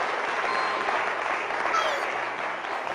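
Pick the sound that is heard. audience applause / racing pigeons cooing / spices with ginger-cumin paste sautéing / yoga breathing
audience applause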